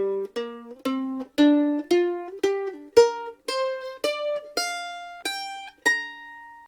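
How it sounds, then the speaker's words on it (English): A mandolin plays a minor pentatonic scale as a blues exercise, about a dozen bright plucked notes climbing steadily in even rhythm, each with a sharp attack and short ringing decay, heard close and alone. "The next scale is what's called the minor pentatonic scale"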